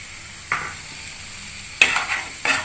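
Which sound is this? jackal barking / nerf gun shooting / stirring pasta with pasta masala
stirring pasta with pasta masala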